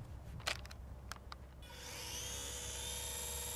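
Small electric motor and propeller of a micro Flyzone Fokker D.VII RC biplane spooling up from idle to a steady high whine outdoors, after a few faint knocks, with no talking.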